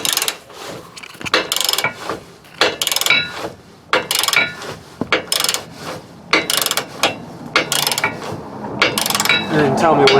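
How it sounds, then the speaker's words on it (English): Ratchet wrench tightening a bolt on a Curt XD trailer hitch under a 2008 Toyota Tundra, loud repeated clicking strokes in rhythmic bursts with short gaps, close by. "Do you want me to operate the ratchet?"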